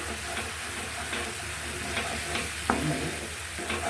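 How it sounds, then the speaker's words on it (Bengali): Vegetables frying with chili in a pan give a steady, faint sizzle, with soft scraping and clinks from stirring now and then. "এই দেখেন তো একটু নাড়াচাড়া করবো সুন্দর করে"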